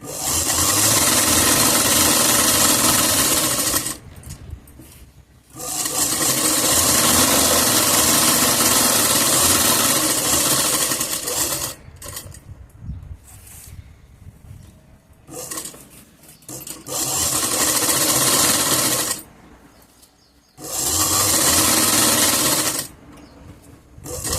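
A sewing machine stitches a zipper pocket onto pants in four long, loud runs of fast, steady whirring, separated by quieter pauses with small handling clicks, very close.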